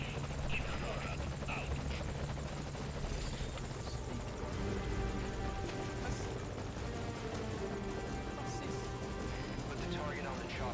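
A helicopter in the video game Metal Gear Solid V: The Phantom Pain thrums with a steady, rapid rotor chop and engine whine, continuous and fairly quiet throughout, with occasional clatter over the top.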